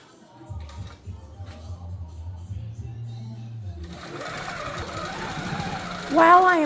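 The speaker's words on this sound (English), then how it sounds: "So I have pulled the bobbin and I'm just going to sew." A sewing machine stitches a fabric quilt border with a small presser foot, a steady low mechanical whirr running under quiet surroundings and then giving way to rising clatter and brief speech-like sounds near the end.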